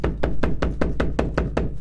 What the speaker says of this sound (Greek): Βάστα να βαρέξω την πόρτα.